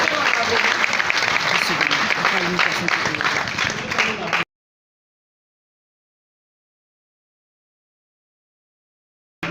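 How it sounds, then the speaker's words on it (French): A conference crowd applauds Sansan with a thick burst of clapping and a few voices, lasting about four seconds before cutting to abrupt silence. "On va applaudir Sansan pour l'encourager."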